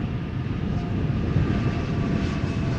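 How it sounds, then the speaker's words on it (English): Jet engines roar steadily at a distance at Schiphol Airport, a broad sustained rumble that swells slightly as the airliner spools up on the center runway, with no talking. "airplanes spool up from the center runway"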